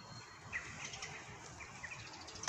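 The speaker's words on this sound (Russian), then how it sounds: "птички поют." Small birds chirping and calling outdoors in early spring, near a willow and poplars shedding catkins; a few faint, scattered tweets over a steady background hiss, with no talking.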